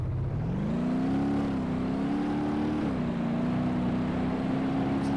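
Savetta Bolide car engine in BeamNG.drive, a continuous loud droning note that rises and wavers slightly with throttle and holds steady throughout, alone without talk.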